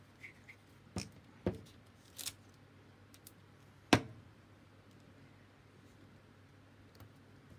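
A paper tag torn by hand, giving a few sharp, brief ripping and crinkling bursts spaced out over quiet room tone, with one louder tear near the middle and no talk.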